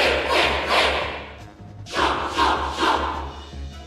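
A Super Smash Bros. arena crowd chants a fighter's one-syllable name three times in rhythmic bursts, with a short pause before the second round of loud, massed cheering.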